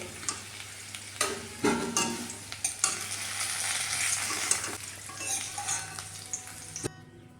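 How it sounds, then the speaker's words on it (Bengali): Potatoes for a chicken curry sizzle in hot oil in a pan with a steady frying hiss, broken by sharp clinks and scrapes of a utensil stirring and lifting them out. "চিকেনের আলুটা ভাজা হয়ে গেছে, এবার তুলে নেব"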